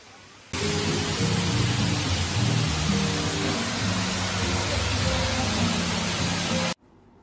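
A waterfall at a mountain cafe pours as a steady, loud broadband rush that holds for about six seconds, begins abruptly and cuts off sharply, with no voices over it.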